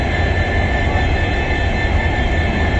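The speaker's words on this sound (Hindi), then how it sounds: "Jammu Tawi Jodhpur express arriving Bikaner railway station. आज 19226 को जो लोको लेके आ रहा है वो डीजल लोको है" Train 19226 Jammu Tawi–Jodhpur superfast express, hauled by a diesel locomotive, arrives at Bikaner railway station with a loud, steady rumble and rolling roar close by, no talk.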